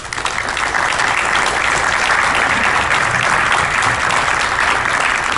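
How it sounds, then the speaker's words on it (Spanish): Sustained, loud audience applause at a family-business event in Monterrey, a dense steady wash of clapping that holds at full level for the whole stretch with no talk over it. "Pues un fuerte aplauso."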